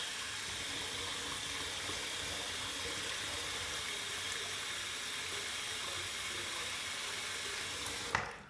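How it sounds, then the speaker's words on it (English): Water drains steadily from a sink full of shaving water, a constant hissing rush with no talk, ending in a brief clunk near the end. "I'm gonna go ahead and just drain some water because I got a lot of water in there."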